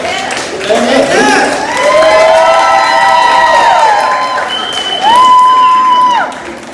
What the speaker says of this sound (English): First off, give Jameel a big clap.